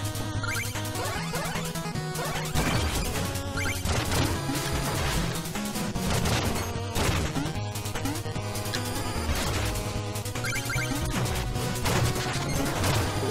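Repeated crashing explosions in the platformer game Shovel Knight: Plague of Shadows, sharp bursts landing in quick irregular succession over a busy chiptune music track, loud and continuous throughout.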